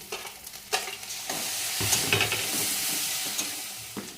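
Garlic, ginger and green chili frying in hot oil in a pan for chicken curry, a loud steady sizzle rising as ingredients drop in, with a few stirring knocks up close and no talking.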